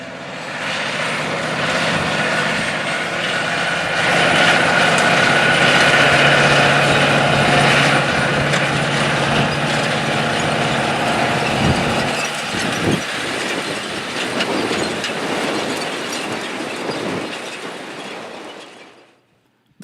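A 2019 John Deere 9620R four-wheel drive tractor with 620 horsepower works a field. Its engine gives a steady, loud, close drone with a broad rushing roar that holds for most of the clip, then fades away near the end.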